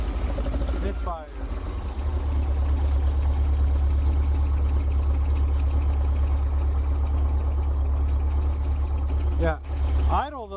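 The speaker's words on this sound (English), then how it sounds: "it's idling beautifully. It's got a really nice idle" A Volkswagen bus engine, fresh from carburetor work, idles with a steady, even low rumble throughout, and voices briefly break in near the start and end.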